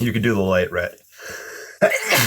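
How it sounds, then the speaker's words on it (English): A single loud sneeze from a person painting a watercolor and gouache landscape, bursting out right after a short spoken phrase. "That was a sneeze and a half."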